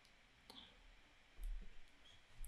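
Faint computer mouse clicks, a few sharp isolated ticks spaced apart near the microphone, with low rumbling handling noise in a quiet room and no speech.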